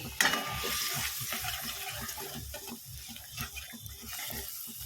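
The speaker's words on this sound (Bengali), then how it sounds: "মশলাটা একটু নাড়াচাড়া করে নিয়ে" Spices and turmeric stirred in a pan make a close, low sizzle with rhythmic scraping and a few utensil taps throughout.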